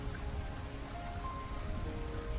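Steady rain falling on a surface, a soft continuous hiss of drops with no voices, even in level throughout.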